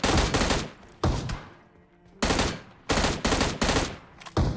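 M16 rifle fire in the mobile game BGMI, loud close bursts of rapid automatic shots in roughly five clusters separated by short quiet gaps, with no talk.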